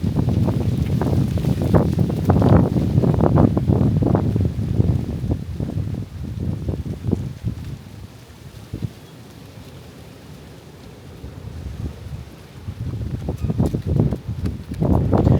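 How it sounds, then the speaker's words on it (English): Wind buffets the microphone outdoors in strong low rumbling gusts, loud at first, easing off in the middle, then rising again near the end. "Here's that wind."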